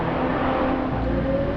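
A Ferrari 12 Cilindri Spider's V12 engine, a loud, steady droning rumble heard close up and continuous throughout, with no talking.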